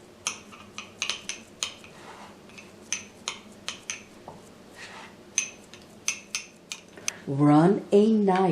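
A metal spoon scrapes and taps against a cup while smoothing packed mofongo, giving a string of short, close clinks and scrapes, followed near the end by a brief burst of voice.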